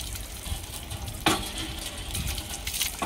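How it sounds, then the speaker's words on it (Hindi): Tap water runs in a steady broadband rush in a village setting, continuous for about three seconds with a brief louder splash near the middle and no voices. "पानी आ रहा है।"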